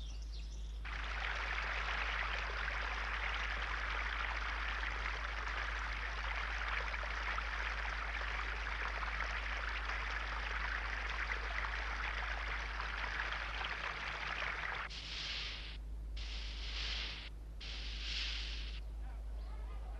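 The Turia river below Teruel flows with a steady rushing, hissing water sound. It holds constant for most of the stretch, and a few brief chirps or splashes come near the end.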